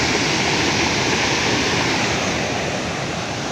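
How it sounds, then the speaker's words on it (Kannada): Rushing water from Charmadi waterfall gives a steady, dense roar close by, unbroken and with no voices. "ಸೌಂಡ್ ನೋಡಿ ಫ್ರೆಂಡ್ಸ್, ವಾಟರ್ ಸೌಂಡ್ ಸಕ್ಕತ್ತಾಗಿದೆ ನೋಡಿ"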